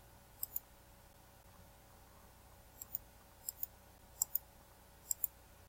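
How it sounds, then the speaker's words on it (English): Several sharp, faint computer mouse clicks sound in a quiet room, a single one and then close pairs spaced a second or so apart, with no talking. "let's just click that"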